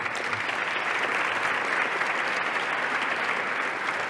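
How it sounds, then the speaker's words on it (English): Steady, dense applause from an audience at a leadership award presentation, clapping for themselves, filling the room evenly at close range with no voices on top. "You should give yourselves a nice round of applause."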